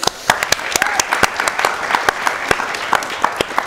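Audience applause for Handsome Tim at a live-streamed horn hangout: a steady bed of sparse, individually distinct hand claps from a small group, fairly close, with no talk over it.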